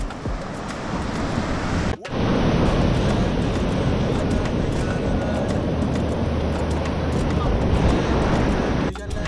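Powerful ocean surf pounds a shore during island hopping, a loud, continuous roaring wash of breaking waves that fills the whole span, briefly dipping near the start before surging back, with wind buffeting the microphone.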